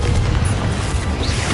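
An explosive Confringo spell goes off in Hogwarts Legacy on PS5, a loud, deep rumbling blast that stays heavy and continuous for over a second.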